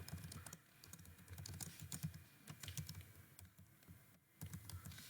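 Fingers typing steadily on a computer keyboard, with rapid irregular clicks, short pauses and a brief gap near the end, quiet and close.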